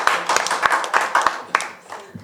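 Audience at a Tamil book launch claps for a poet: a brief, fairly close burst of scattered hand claps that thins out and stops after about two seconds.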